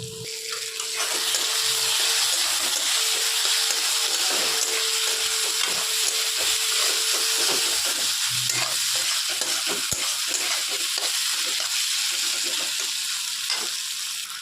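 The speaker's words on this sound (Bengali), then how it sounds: "দিয়ে দিলাম কড়াইতে চাউমিন" Chow mein stir-fries in a wok with sauce and ground black pepper, a continuous close sizzle broken by repeated scraping and tossing strokes, with no talking.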